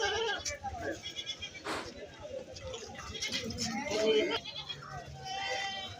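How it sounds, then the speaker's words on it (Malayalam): Male goats bleat at a busy Kerala goat market, several calls rising over a steady crowd murmur while someone talks nearby. "ഇവിടെ ഒരു മുട്ടനാട് നിൽപ്പുണ്ട്"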